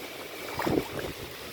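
Strong wind gusting during heavy rain and flooding in Bokhira, Porbandar: a continuous low roaring rush of air with a brief swell in the middle, buffeting the microphone, with no talk.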